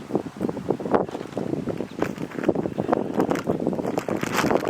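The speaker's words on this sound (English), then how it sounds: "It's a nice windy day." Gusty wind buffets the microphone outdoors at a coyote trap site, with continuous irregular rushing blasts that stay loud throughout and no voices.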